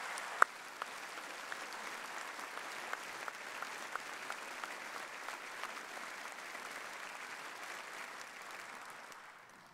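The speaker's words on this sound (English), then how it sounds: "join me in an applause of thanks to our staff at the university" An audience at a university graduation ceremony applauds in a thank-you to university staff, a steady dense wash of clapping from a large crowd that holds for about ten seconds before starting to fade at the end.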